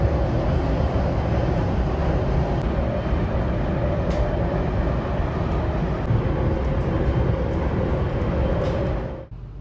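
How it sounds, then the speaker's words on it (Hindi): Inside a moving Delhi Airport Express metro train there is a steady, loud rolling rumble and hum with faint clicks, continuous until it drops away abruptly at the very end. "ये है एयरपोर्ट एक्सप्रेस मेट्रो, जो अंदर से कुछ इस तरीके की दिखती है।"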